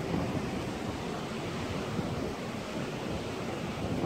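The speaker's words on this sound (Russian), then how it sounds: "Ветер очень сильный." Strong seaside wind at Puertito de Guimar on Tenerife, a broad steady roar of gusting air and surf noise buffeting the microphone, continuous and loud with no voices.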